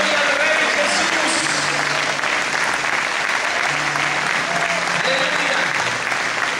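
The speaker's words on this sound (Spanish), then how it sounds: "Denle un aplauso grande al Señor" Sustained applause from a church congregation fills the space, a dense steady wash of clapping that holds evenly throughout with faint voices mixed in.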